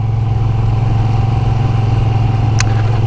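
A Moto Guzzi V7 Sport motorcycle engine runs loud and close with a steady throbbing pulse and a brief sharp click near the end, with no voices over it.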